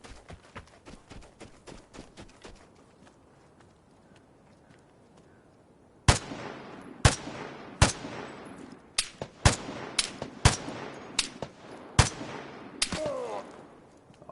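Gunfire in the online survival shooter Vigor: a run of sharp, loud shots from about six seconds on, spaced irregularly with some in quick pairs, after a quieter stretch of faint distant pops and game ambience.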